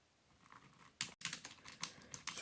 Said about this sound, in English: So just very soft in terms of feel with the key presses. As you can hear.